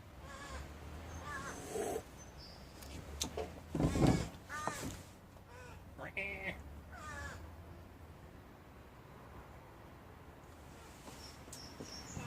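A crow caws repeatedly in short bursts, fairly distant, against a quiet outdoor background with faint insect chirping.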